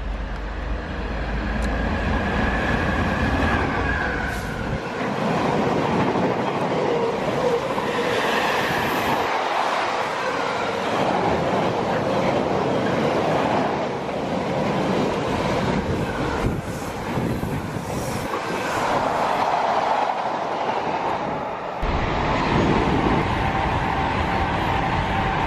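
Passenger train running toward Ealing Broadway on the route via Euston, a steady loud rumble of carriage and rails throughout with faint wheel clatter and occasional squeal, no voices.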